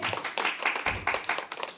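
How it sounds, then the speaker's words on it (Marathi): An audience claps in a steady, rhythmic beat to welcome an elderly father forward at a therapy clinic gathering; about eight even clap pulses, moderately loud and close. "एकदा बाबांसाठी जोरात टाळ्या वाजवायचे."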